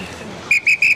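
During Navy SEAL BUD/S training, three sharp, loud whistle blasts sound in quick even succession after a brief quiet stretch.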